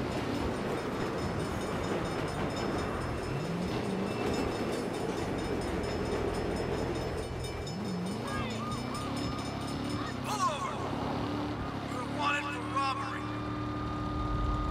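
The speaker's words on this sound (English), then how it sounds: "Bad time for a train." A train in the video game Saints Row rumbles past during a police chase, a steady, heavy roar with a rhythmic clatter that fills the whole stretch, with faint voices and game sounds on top.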